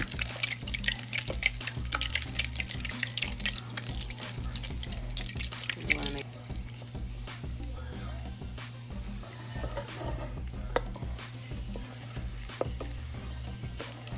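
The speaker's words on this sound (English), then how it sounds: "So what we're gonna do is we're gonna melt the butter." Butter melts and browns in a pan for chocolate chip cookies, a soft crackling sizzle with faint clicks and a low steady hum in the background.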